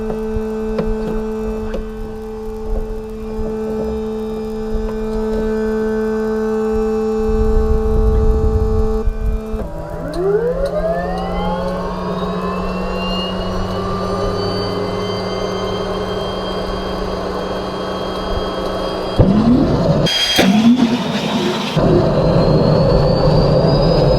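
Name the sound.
rich engine start with fuel cutoff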